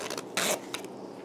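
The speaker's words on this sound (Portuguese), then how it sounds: "E a gente vai usar esse zíper. Então, vamos fechar." A zipper on a homemade fabric makeup bag is pulled in a few short, raspy bursts, close and fairly quiet, with no talking.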